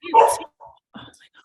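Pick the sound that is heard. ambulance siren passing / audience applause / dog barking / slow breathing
dog barking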